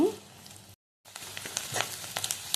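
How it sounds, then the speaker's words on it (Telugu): Onions, green chillies and garlic frying in a pan for an egg curry gravy, a soft steady sizzle with a brief gap, crackling pops scattered through it. "ఆనియన్స్, పచ్చిమిర్చి, వెల్లుల్లి బాగా ఎర్రగా వేయించుకోవాలండి"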